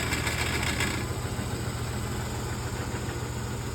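A General 340 drill press runs with its belt cover off, giving a steady, close mechanical hum with a slight, continuous rattle throughout.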